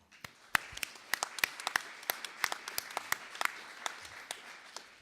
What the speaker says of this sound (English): So maybe just a round of applause for those farmers.